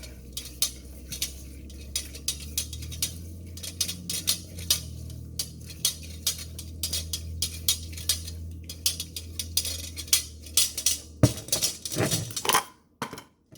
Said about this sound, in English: So we're going to mix all this together.